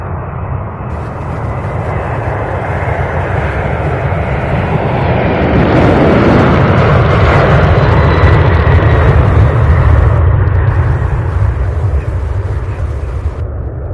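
A jet airliner takes off at Louisville International Airport, a loud, continuous roar of engines that swells to a peak midway and stays heavy and broad throughout, with no voices over it.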